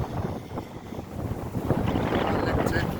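Gusty wind buffets the microphone at Buffels Bay in the Cape Point Nature Reserve on a windy August day, a rough, uneven rush that rises and falls with no clear speech.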